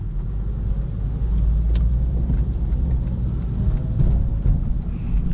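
From inside an eighth-generation Honda Civic creeping through slow, uphill city traffic comes a steady low engine and road rumble, fairly loud and continuous, with faint passing-traffic noise and no talking.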